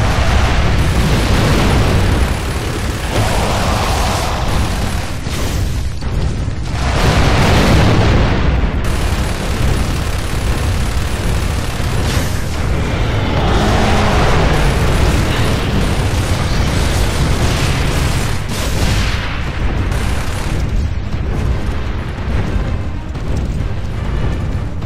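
Heavy machine guns and cannon firing in the video game Gears of War 2, a loud, sustained roar of booming blasts and rattling fire that barely lets up, with no voices.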